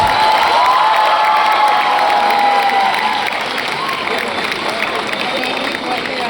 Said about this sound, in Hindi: जोरदार ताली से एक बार स्वागत कीजिए।